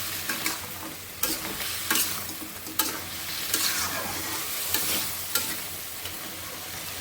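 A curry with lentil dumplings being sautéed in a pan, a steady sizzle of frying with repeated clacks of a spatula as it is stirred, close up with no talk.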